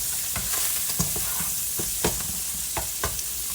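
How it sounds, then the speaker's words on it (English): Breakfast sausage fries in a pan with a constant loud hiss of sizzling fat and repeated spatula scrapes and taps, close up and uninterrupted by talk. "Get our breakfast sausage cooked."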